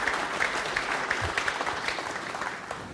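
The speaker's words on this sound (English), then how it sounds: "Well, deserved applause for that one." Billiards tournament audience applauding after a safety shot, a short, steady patter of clapping at moderate volume across the whole moment.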